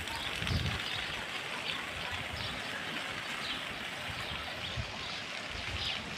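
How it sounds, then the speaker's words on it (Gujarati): A swollen river rushes past in a continuous broad roar of flowing water, with faint low thumps and birdsong scattered above it. "આજે તો બે કાંઠા નદી આવી ગઈ"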